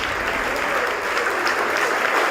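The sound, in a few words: audience applause, standing ovation at award ceremony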